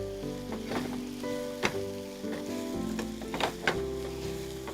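Onions fry with a little salt in a pan, giving a steady close sizzle with a few sharp crackles and stirring clatters, with no voices.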